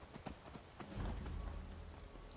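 Quick hoof clip-clops patter at a trot from a horse in the video game Skyrim, then give way to a louder, rumbling stretch of trotting.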